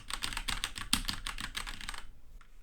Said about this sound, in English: this is obviously with a mechanical keyboard